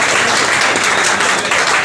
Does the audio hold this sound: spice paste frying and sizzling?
no